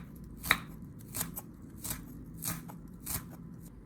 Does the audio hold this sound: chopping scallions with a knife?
yes